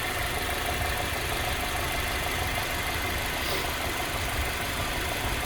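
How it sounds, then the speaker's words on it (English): A 2011 Hyundai Accent GS hatchback with nearly 200,000 miles idles under the open hood, a steady, quiet, even engine hum with no changes in pace throughout. "Under the hood, I want you to hear how quiet this little car is."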